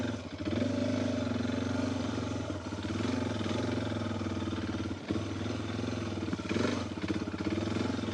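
A Suzuki DR 650 adventure bike labours through a dirt rut, its single-cylinder engine droning steadily and loudly up close, with a brief dip in revs around five seconds before the engine picks up again.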